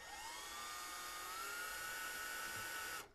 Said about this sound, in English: we're just gonna drill ourselves a little bit of a pilot hole